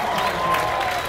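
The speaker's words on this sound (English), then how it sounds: "Massive round of applause." Crowd applause for a surfing champion at a pro surf event presentation, a brief continuous wash of clapping with some cheering, moderately loud and steady.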